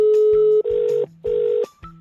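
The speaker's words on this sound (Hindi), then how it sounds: "नंबर मिला रहा है भाई बार बार।" Telephone tones from dialing a number, a few short electronic beeps in a quick uneven series, clear and close with no talk over them.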